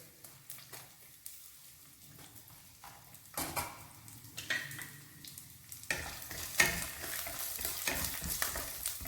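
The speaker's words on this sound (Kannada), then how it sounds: "ಬೆಳ್ಳುಳ್ಳಿ ಇದ್ದೀನಿ ಸ್ವಲ್ಪ ಫ್ರೈ ಮಾಡ್ಕೊಳ್ಳೋಣ ಬೆಳ್ಳುಳ್ಳಿನ" Garlic and green chillies frying in oil in a pan, a steady sizzle with scrape-and-stir strokes that grows louder and busier toward the end, with no voices.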